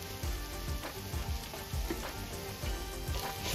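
Crushed fried potatoes stirred into a sizzling egg curry masala in a pan, a steady close sizzle with soft repeated scraping and stirring strokes throughout, no voices.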